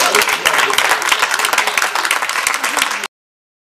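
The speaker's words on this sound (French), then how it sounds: "Alors suivons ensemble avec des applaudissements bien entendu." Audience applause on a youth and culture program, loud dense clapping from a crowd close by, continuous for about three seconds before cutting off abruptly.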